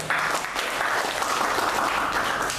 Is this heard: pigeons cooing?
no